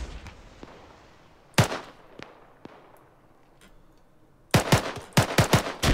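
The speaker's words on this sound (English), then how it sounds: "I'll keep shooting to distract him" Gunfire in Arma 3 during a King of the Hill match with RHS weapons: scattered single shots early, then a loud rapid cluster of bursts near the end, with quieter distant cracks between.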